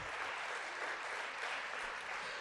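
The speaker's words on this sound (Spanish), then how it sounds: "Un aplauso a los jóvenes de alabanza" Applause for a youth worship band at a church service: a steady, dense wash of clapping that fills the short moment at moderate volume with no pauses.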